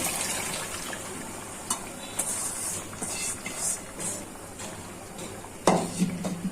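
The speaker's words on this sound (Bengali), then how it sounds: "এখন সাথে দিয়ে দিচ্ছি ঝোল" Broth splashes into a pot of beef head meat and boiled chickpea curry, with soft pouring and hissing, a few clinks against the pot, and a sharper burst of liquid near the end.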